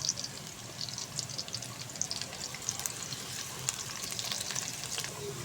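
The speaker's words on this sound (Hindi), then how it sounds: "लहसुन और अदरक जाएगा इसके अंदर थोड़ा सा" Onion, garlic and ginger fry in hot oil for a tadka, giving a steady close sizzle with scattered crackles and the occasional scrape of stirring throughout, with no voices.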